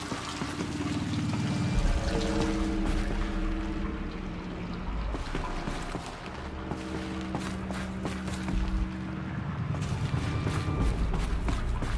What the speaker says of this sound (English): The water's flowing, just not where it needs to.